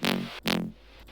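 Compressed synth bass fill built in Serum from two sine waves, the second an octave up, with FM and gritty group post-processing; two loud sustained hits with a short gap, then fading.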